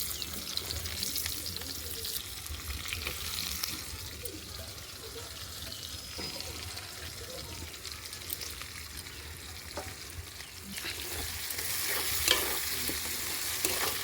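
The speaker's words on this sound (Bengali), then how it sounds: "তেলের মধ্যে আমি পেঁয়াজ দিয়ে দিচ্ছি।" Onions sizzling and frying steadily in hot oil in a pan, with a continuous close crackle and occasional stirring scrapes, growing a little louder near the end, no talk.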